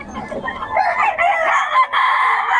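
Roosters crow loudly and close at a gamefowl market in Bocaue, with one long drawn-out call followed by clucking fowl nearby.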